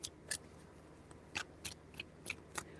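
Tarot cards being shuffled make faint, sharp, crisp clicks and snaps in irregular short bursts against a quiet room tone, with no talking.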